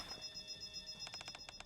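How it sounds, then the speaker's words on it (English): An alarm going off in the video game Nikke: Goddess of Victory, a rapid series of bright electronic ringing pulses that starts midway and repeats steadily, fairly quiet and heard alone without talk. "How'd the alarm get set off?"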